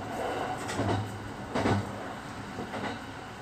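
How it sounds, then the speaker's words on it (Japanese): A train on the Seto-Ohashi Line between Okayama and Takamatsu rumbles steadily along the track at ground level, with a few heavier clunks from the wheels and carriage, heard from inside. "列車は高架を降りて地上を走っています。"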